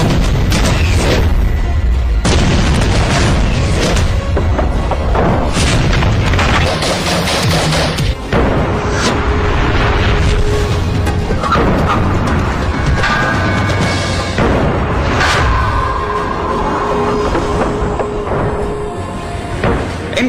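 Israeli-designed assault rifles fire in loud, close bursts and rapid volleys of sharp cracks, some heavy booms mixed in, with dense sustained shooting throughout and no talking.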